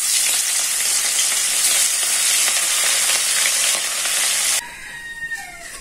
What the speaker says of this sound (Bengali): 2টা মাছ ভাজবো, ভাজার জন্য তেল দিয়ে দিলাম